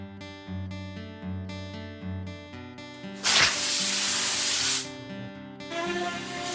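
A compressed-air hose blows over a freshly sanded wooden drawer in a loud, close hissing burst of under two seconds that stands out over background music.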